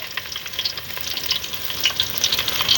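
Onions frying in a pan for a Nellore-style fish curry, a steady crackling sizzle with small pops and scraping stirs throughout, fairly close.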